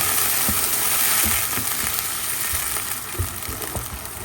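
Milk splashes into hot oil in a frying pan for a quick egg korma, raising a steady broadband sizzle with a few soft stirring knocks and spatters, close by and fairly loud, with no voices.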